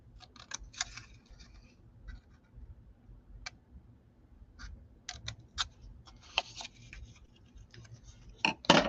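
Scissors cutting a piece out of folded material, with sparse, sharp snips and clicks spread irregularly over several seconds, close and fairly quiet with no talk.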